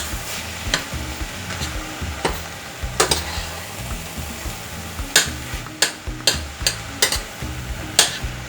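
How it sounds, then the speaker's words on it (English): Onions and ground meat frying together in a pan for stuffed bell peppers, a continuous sizzle broken by repeated sharp clacks and scrapes of a utensil stirring against the pan, close and without talk. "let's just combine the onions and the meat together"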